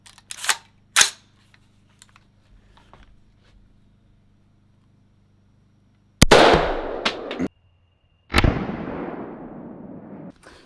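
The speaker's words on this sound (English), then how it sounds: "Then we'll do the old AK-47." An AK-47 rifle is fired at a wooden block target outdoors, with a few sharp loud cracks followed by long decaying echoes, separated by quieter stretches holding faint clicks and handling noises.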